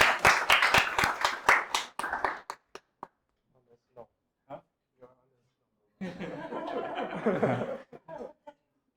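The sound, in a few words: applause for the volunteers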